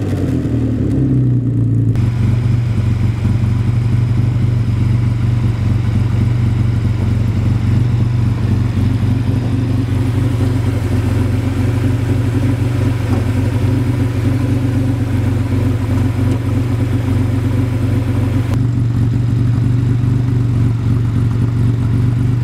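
A 1953 Jaguar C-Type replica's inline six, fed by twin SU HFI-7 carburetors, runs steadily through a custom side exit exhaust, a loud, close, continuous engine drone with a deep throb that rises slightly near the start.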